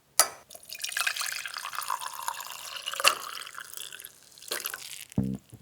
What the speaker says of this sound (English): But I also poured a cup in this white mug